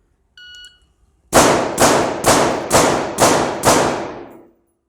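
Six gunshots fired in a CQB drill, split three and three across two targets, follow a short electronic timer beep, loud, sharp and evenly spaced at a quick cadence, each with a short decay.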